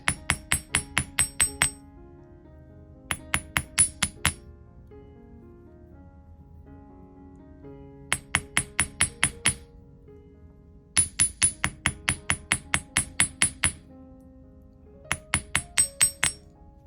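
A ball peen hammer taps copper wire on a steel bench block in quick bursts of sharp metallic clinks, each burst a rapid run of strikes separated by short pauses.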